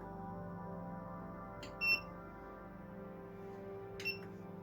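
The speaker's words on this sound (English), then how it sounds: "this just beeped at me, so it's done" A machine used in making printed circuit board art gives two short, high electronic beeps a couple of seconds apart over a steady low mechanical hum, close by and clear.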